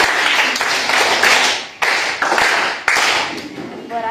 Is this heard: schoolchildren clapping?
yes